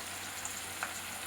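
Curry leaves and green chillies frying in a pan for Tamil tomato gravy, a steady close sizzle throughout with a couple of faint pops, no voices.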